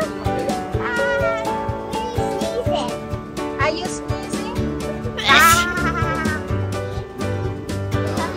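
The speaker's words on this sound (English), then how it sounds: "That sheep is talking to you?" Sheep bleat at a county fair among farm animals, several wavering calls rising over a busy mix of other livestock and nearby voices, including a child, with one louder close bleat in the middle.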